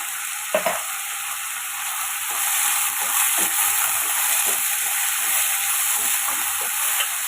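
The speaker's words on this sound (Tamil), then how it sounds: "இப்போ அதையும் சேர்த்துக்கலாம் சேர்த்துட்டு இதை காய்க்கு தேவையான உப்பு சேர்த்து வதக்கிடலாம்" Chopped chayote sautéed with salt in a pan sizzles steadily nearby, with soft scraping stirs now and then over a constant frying hiss and no voices.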